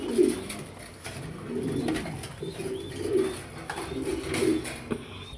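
Domestic pigeons cooing in a loft as a male bird is put in with a female, low repeated coos with some bird calls over a steady background.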